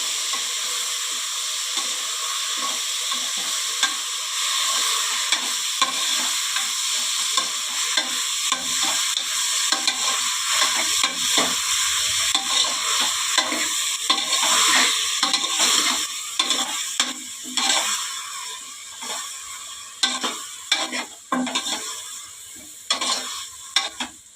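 Food sizzling steadily in a pan while being stirred again and again, with scraping and clattering strokes over continuous frying hiss, close and fairly loud, for a curry with dal, with no talking.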